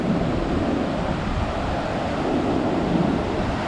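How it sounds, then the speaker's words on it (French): Wind and breaking waves on the Brittany coast after a storm, a steady loud roar of surf and gusting wind with continuous low rumble and no voices. "avec le vent qu'il y a et puis les vagues"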